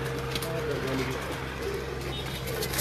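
Breeder pigeons from a loft in Nowshera Virkan give low, continuous cooing that runs steadily throughout, with a voice faintly present beneath.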